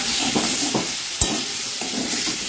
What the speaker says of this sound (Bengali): এখন টমেটোগুলি দিয়ে দেবো, দিয়ে একটু ভেজে নেব।